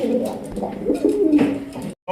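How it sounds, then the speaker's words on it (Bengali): Several red pigeons cooing close by in a short, throaty run of low burbling calls, heard alone without talk. "ভাই মাশাআল্লাহ লাল টুকটুকা কি কবুতর"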